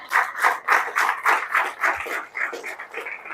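A church congregation claps loudly in a steady, rhythmic beat, many hands striking together in quick repeated bursts that carry on without pause.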